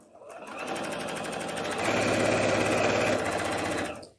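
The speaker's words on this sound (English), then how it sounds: "we're just going to sew this sashing into our squares here" A sewing machine stitches sashing strips onto quilt squares, a steady close mechanical whir that runs continuously for about four seconds and grows slightly louder midway before stopping.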